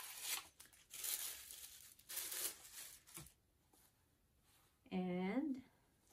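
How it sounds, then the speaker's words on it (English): A paper bag rustles and tears close up as it is pulled off a Moynat calfskin envelope pouch package, in several crinkling bursts, followed by a short spoken voice. "Let me remove the paper bag."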